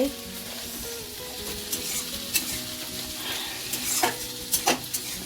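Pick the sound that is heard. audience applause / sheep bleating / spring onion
spring onion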